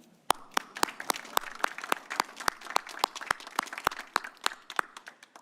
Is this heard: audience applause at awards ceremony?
yes